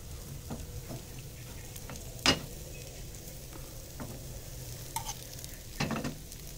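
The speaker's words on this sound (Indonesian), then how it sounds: "Kita goreng bolak-balik hingga matang." Egg kebab frying in a pan gives a soft, steady sizzle that stays low and even, broken by a few sharp clicks and taps of a utensil against the pan.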